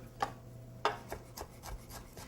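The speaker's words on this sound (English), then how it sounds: "I'm just giving it a nice rough chop before it goes into the blender" Several soft knife chops on a cutting board as tarragon is roughly chopped, irregular and close, over faint background hum.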